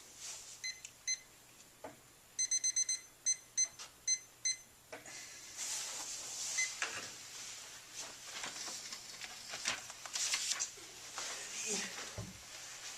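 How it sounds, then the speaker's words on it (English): A large timer is set with a quick run of sharp electronic beeps, mostly grouped together in the first half, followed by shuffling and muffled indoor sounds with people present. "Why don't you set that big timer for 10 minutes?"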